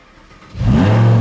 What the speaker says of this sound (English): Now I'll start the car.